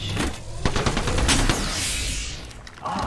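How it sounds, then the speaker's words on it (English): Rapid automatic gunfire in the Apex Legends battle royale game, a dense close burst of shots with sharp repeated cracks, followed by a sweeping whoosh and a short trailing rumble. "I'm getting shot at."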